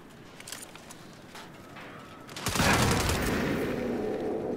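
Turret guns firing in the Saints Row video game: a thin crackle of distant shots gives way to a loud, sustained burst of rapid gunfire that keeps rolling to the end.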